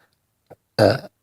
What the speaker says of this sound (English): Excuse me, there's the burp